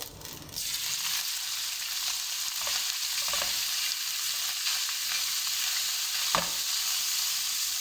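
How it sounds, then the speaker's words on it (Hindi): Half a kilo of chicken mince browning in hot oil, a continuous close sizzle with repeated stirring scrapes and a sharp utensil knock near the end, no voices. "कीमे का कलर चेंज होने तक इसको अच्छी तरह भून लेंगे हम।"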